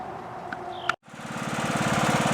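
A Huskee riding lawn tractor, its deck belt just repaired, cuts off briefly and then starts mowing, the engine building to a steady, loud, rhythmic drone close by.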